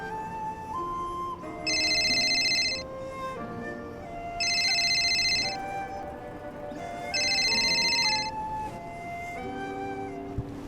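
A phone rings with an incoming call from Japan, with loud bursts of bright ringing tone repeating three times over a steady background of music.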